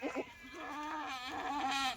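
Kathiawadi goat bleating in a long, wavering cry held for about two seconds, close and loud, with clear harmonic quavers and no talk over it.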